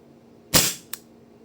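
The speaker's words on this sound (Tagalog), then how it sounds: "Custom Tokyo Marui High Kappa Gold Match. Firing." A custom Tokyo Marui Hi Capa Gold Match airsoft pistol fires a single sharp, close snap, followed a moment later by a faint secondary click.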